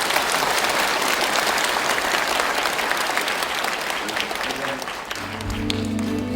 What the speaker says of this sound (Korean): 여러분 큰 박수 한번 부탁합니다